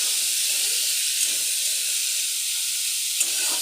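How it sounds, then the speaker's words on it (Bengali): Chickpeas fry in a pan with green chillies, giving off a loud, steady hiss and sizzle that barely changes, with a soft clink near the end and no talking. "এখন চানাটাও দিয়ে দেব। দিয়ে ভেজে নেব।"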